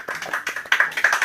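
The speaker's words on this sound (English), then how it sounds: "let's give everybody a quick round of applause" Brief, sparse clapping from a small quiz audience, a handful of separate claps in an uneven rhythm lasting about a second, fairly close and moderately loud.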